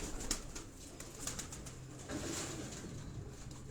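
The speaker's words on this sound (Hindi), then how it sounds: "ये इनके परफार्मर कबूतर हैं" Performer pigeons coo on a rooftop in Rawat, with soft, repeated coos close by over faint outdoor background noise and no talking.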